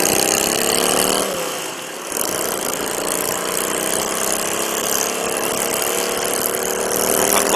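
A 400cc motorcycle at a charity ride revs with a steady, loud mid-pitched engine drone that holds throughout, with a brief dip near the start before the roar returns and rises again.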